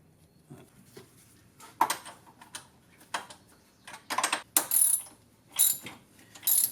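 A spark plug is tightened with a ratchet on the gas engine of a 2002 EZGO TXT golf cart, giving close, crisp bursts of rapid ratchet clicks separated by short pauses.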